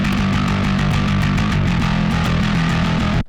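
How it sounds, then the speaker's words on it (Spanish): Heavily distorted bass guitar through Helix Native amp-simulation software with no low-frequency cut, a loud, dense, sustained growl full of boomy lows and fizzy highs, its rapidly repeated notes steady for several seconds before stopping abruptly, with no talk. "qué sucedería si yo tengo solo distorsión sin haber previamente haber cortado frecuencias"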